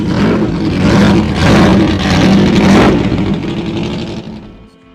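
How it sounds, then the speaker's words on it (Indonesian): A Formula 1 car engine fires up and revs loudly, a dense roaring drone that swells in waves before dropping off sharply near the end; no talk over it. "mekanik di area kokpit akan mengaktifkan sistem bahan bakar dan tombol ignition pada steering wheel untuk mulai menyalakan mesin"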